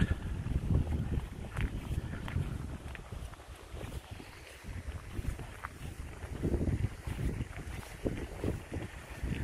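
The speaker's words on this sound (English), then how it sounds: "Me and Kenny chose to camp over here, so we did. Because we've got wind." Gusty wind buffets the microphone at a hillside campsite near a bridge, a rough, continuous roar rising and falling throughout.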